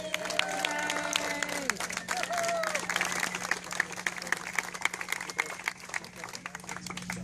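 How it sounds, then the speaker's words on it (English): Crowd applauding Central Street in Evanston at a neighborhood recognition ceremony, sustained clapping that thins out toward the end, with a voice briefly heard at the start and a constant low hum underneath. "if we could have a round of applause for Central Street"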